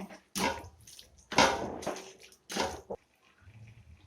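Water is poured in short bursts into chicken curry cooking in a pot, three or four splashing gushes separated by brief pauses, close and moderately loud.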